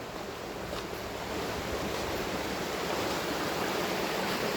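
Floodwater rushing down from the hills after heavy rain makes a dense, steady roar of churning water, loud and close, holding even throughout without pause.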